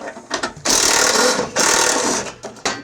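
A power screwdriver or drill runs in two sustained whirring bursts, loud and close, with short clicks and taps between them, while screws come out of a Toro 821 snow blower panel.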